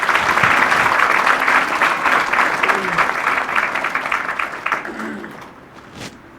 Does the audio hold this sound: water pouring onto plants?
no